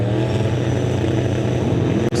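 Opel drag race car idling loud and steady at the start line, its engine a continuous rumble, with a brief dip near the end.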